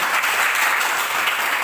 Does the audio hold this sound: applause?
yes